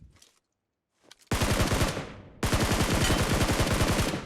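Automatic weapon fire in the mobile battle royale game PUBG Mobile, a short lone shot, then two loud sustained bursts of rapid rhythmic gunshots, close and dominant, with no talk over them.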